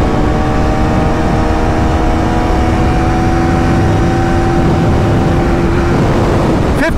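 A 2024 KTM Duke 390 single-cylinder motorcycle holds a steady, loud high-speed engine drone with wind noise, pitch staying fairly even and close-miked for the whole stretch before a brief change at the end.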